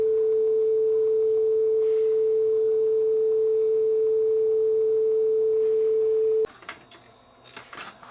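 A Sony TC-W32 cassette deck plays the tape's B side, giving a steady pure test tone that holds for about six seconds and then cuts off, followed by faint handling noises.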